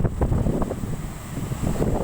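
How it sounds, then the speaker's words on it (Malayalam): Strong sea wind on the coast at Vizhinjam buffeting the microphone in continuous low rumbling gusts, with a faint high whine in the background. "നല്ല കാറ്റും ഉണ്ട്"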